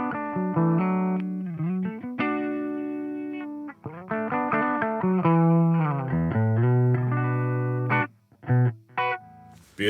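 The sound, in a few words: clean electric guitar tone, Vander guitar bridge pickup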